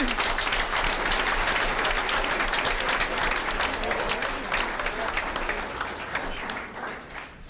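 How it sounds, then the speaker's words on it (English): Sustained applause from an audience honoring athletes at a school district board meeting, steady dense clapping throughout at close range with some murmuring voices mixed in. "A round of applause for all of our athletes."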